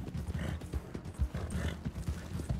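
A horse's hooves clip-clopping in a quick, steady rhythm of soft close thuds, fairly quiet, with no clear talk.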